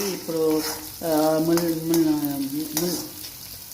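Drumsticks and potatoes fry in a pan for a lunch curry with peas, giving a continuous sizzle under steady tonal music, with a brief word spoken at one point.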